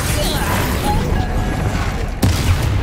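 A Bombarda spell explosion in Hogwarts Legacy, a loud rumbling blast that gives way to a sharp impact near the end, with combat noise around it.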